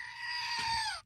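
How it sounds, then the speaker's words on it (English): A toy goat screams when its button is pushed, giving one loud, shrill, human-like bleat held for about a second before it cuts off. "So I guess you push the button on the goat."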